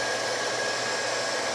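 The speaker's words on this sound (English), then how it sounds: "Never before seen, boys and girls, Ryan Violet with a vacuum cleaner" A vacuum cleaner runs steadily during a cedar fireplace installation, a loud constant whooshing hum with no change and no voices.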